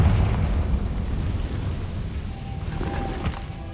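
Confringo blasting spell in Hogwarts Legacy, a deep rumbling explosion with a booming low roar that swells and trails off over a few seconds, with no voices over it.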